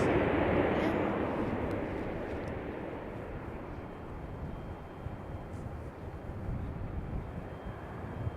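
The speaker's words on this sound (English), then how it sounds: "This one is Delta Airlines 3185" Delta Airlines Boeing 717-200 lands at Charlotte airport, its broad engine roar loud and close at first, then slowly fading into a steady rumble with wind noise.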